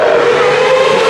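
A race car at the Goodwood Festival of Speed roars past loud and close in a steady, sustained engine drone with no talking over it.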